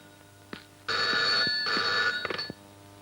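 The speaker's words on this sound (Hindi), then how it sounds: "Madam phone." A telephone bell rings indoors in two long, loud bursts, followed by a brief clatter as the call is picked up.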